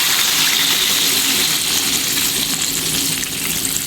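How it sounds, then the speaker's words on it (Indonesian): Water poured into a hot pan of chicken bones sets off a loud, steady hiss and sizzle that holds for several seconds and eases slightly near the end, with faint splashing underneath. "Kita tambahkan air."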